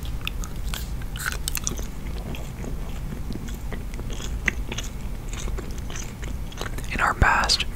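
Peppermint gum is chewed right against the microphone, with wet, sticky mouth clicks and smacks repeating in an irregular rhythm over a low background hum, plus a sharper crunchy snap near the end.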